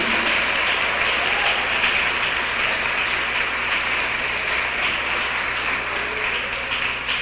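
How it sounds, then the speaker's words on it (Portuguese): A church congregation claps in unison during a service, a bright, steady, fairly loud wash of applause that holds evenly from start to finish without speech over it. "Pode aplaudir mais forte o nome de Jesus."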